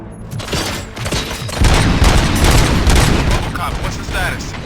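Rapid bursts of gunfire and booming impacts from a Robocop video game, loud and dense, building into a sustained fusillade that fills the whole stretch without pause.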